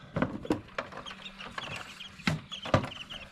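Newly hatched chicks from home-incubated chicken eggs give short, sharp peeps and chirps in scattered bursts, close and fairly clear, with light handling noises in between.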